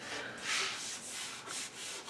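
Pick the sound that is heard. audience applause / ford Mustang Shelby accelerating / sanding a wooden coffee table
sanding a wooden coffee table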